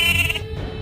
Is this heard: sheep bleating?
yes